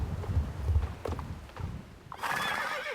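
A horse walks over rocky ground, its hooves clip-clopping in an uneven close rhythm, followed by a loud, bright whinny near the end.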